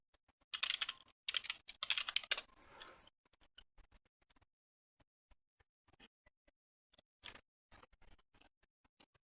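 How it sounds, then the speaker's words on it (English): Someone types a password on a computer keyboard: a quick flurry of close key clicks, then sparse, scattered single taps after a pause, in an otherwise quiet room. "I'm just going to type in root password."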